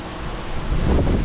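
A cheap, old Johnson Evinrude outboard motor with fouled spark plugs runs steadily in a broadband rumbling drone that swells slightly louder toward the end, with water and wind-like noise mixed in.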